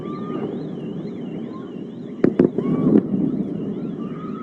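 Iskander missiles strike a city in attack footage, giving several sharp, distant blasts in quick succession over a steady wind-like rumble and a faint warbling siren tone.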